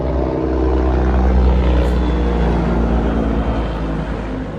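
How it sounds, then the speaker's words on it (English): A propeller airplane drones loudly overhead, a steady low rumble that swells and holds, heard alone outdoors in Chiang Mai. "It's just like airplane, helicopter, airplane."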